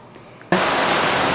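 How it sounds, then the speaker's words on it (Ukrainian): Heavy rain, with hail mentioned, suddenly starts pouring, a loud, dense, steady roar of downpour that stays constant after its abrupt onset. "тепер пішов величезний дощ, і вони бідні там мокнуть"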